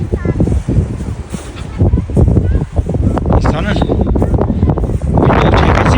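Strong wind buffeting the microphone outdoors on green grazing land, rumbling in uneven gusts and thumps, loud and close, mixed with a person talking throughout.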